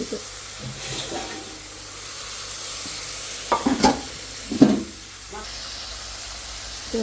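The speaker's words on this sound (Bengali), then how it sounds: "ইলিশ মাছটা রান্না করব জন্য হলো মাছ কষাইতেছি" Hilsa fish pieces being sautéed and stirred in a pan, with a steady sizzling hiss and a few louder stirring scrapes and clatters near the middle.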